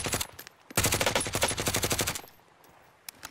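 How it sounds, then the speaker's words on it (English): Rapid automatic gunfire from an enemy patrol in a video game, with a short burst followed by a longer sustained volley of fast, evenly spaced shots, then a few scattered single shots. "Wait, we're getting shot at?"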